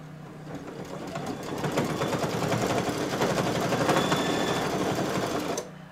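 An embroidery sewing machine stitches fabric shelves with medium gray thread, a fast, steady mechanical rattle that runs loud and close for about five seconds before stopping abruptly.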